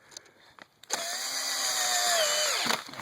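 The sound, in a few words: power drill driving drywall screws into greenhouse frame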